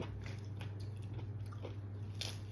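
Someone chews food, soft close bites and crunchy mastication at irregular intervals over a steady low hum, no talking.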